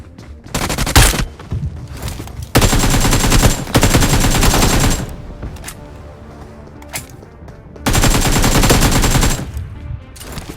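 Rapid bursts of automatic gunfire from the battle-royale video game Free Fire, loud and close, coming in several sustained volleys with short quieter gaps between them.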